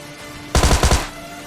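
A rapid burst of about five gunshots from an automatic weapon in the video game PUBG Lite, loud and close, fired alone after a quiet moment.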